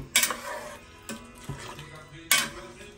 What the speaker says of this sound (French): Mélange un petit peu.